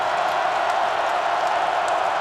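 A packed stadium crowd at a 2016 FCS semifinal football game between James Madison and North Dakota State makes a loud, continuous roar. The dense wash of noise holds steady with no pauses.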